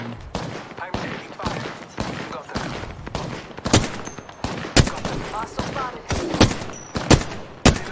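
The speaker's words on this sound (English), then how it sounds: "I'm taking fire." Gunfire in the video game Apex Legends, sharp repeated shots and automatic bursts cracking loudly through a firefight, with players talking over the action.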